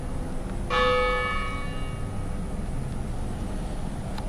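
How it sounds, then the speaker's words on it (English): A single church tower bell strike rings out clearly, its bright resonant hum decaying slowly over a couple of seconds against quiet background ambience. "Bell tower."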